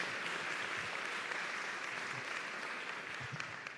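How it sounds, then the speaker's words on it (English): A town hall audience gives a round of applause honoring a woman who led the Pledge of Allegiance, with dense continuous clapping filling the room and tapering slightly at the end. "Let's give her one more round of applause to thank Erilyn for all she did with the Pledge of"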